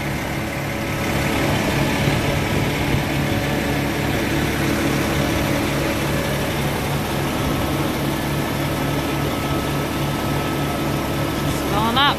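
A pump pushes molasses into a tank as feed additive, giving a steady low mechanical drone that runs continuously throughout, with voices talking over it.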